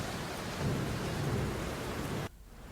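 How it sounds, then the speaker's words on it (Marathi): Heavy monsoon rain pours down in Maharashtra with a dense, steady hiss and a low rumble of thunder, then drops off sharply near the end. "मुसळधार पडत असलेला पाऊस"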